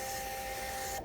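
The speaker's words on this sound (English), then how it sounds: "you should be able to click the feed button on your printer" A Citizen CL-S521 thermal printer feeds a Canada Post thermal paper roll, giving a loud, steady mechanical whir up close that cuts off abruptly after about a second.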